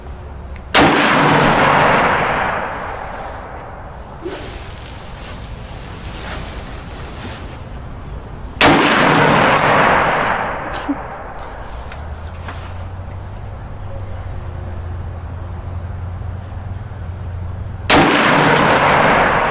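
Three loud, sharp rifle shots from a Smith & Wesson M&P10 fitted with a Vortex Strike Eagle scope crack out several seconds apart outdoors, each ringing and decaying into a long echoing tail.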